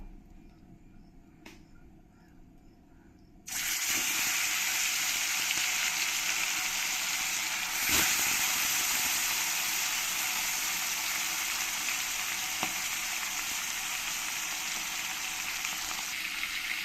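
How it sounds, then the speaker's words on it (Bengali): Silver carp pieces, rubbed with salt and turmeric, drop into hot oil and burst into a loud, steady sizzle that holds without pause after a quiet opening, with a couple of faint clicks early on. "এই মাছগুলো এবার এক এক করে আমি গরম তেলের মতো দিয়ে ফ্রাই করে নেবো"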